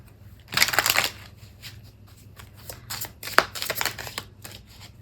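Tarot cards from a Rebel deck shuffled by hand, a dense riffling burst followed by softer, intermittent flicks and slaps of cards, close and fairly quiet over a low steady hum.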